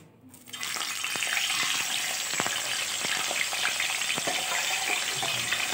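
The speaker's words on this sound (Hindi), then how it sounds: "फ़िश को फ्राई कर रहे हैं।" Marinated fish, rubbed with salt and lemon, frying in hot oil: a steady, dense sizzle that begins after a brief quiet start and holds loud and close, with occasional sharp crackles and pops and no talking.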